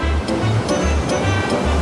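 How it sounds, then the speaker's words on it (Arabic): Ocean waves wash steadily onto a shore in a continuous, loud rushing roar, with no voices. "بدأت أسمع صوت الأمواج"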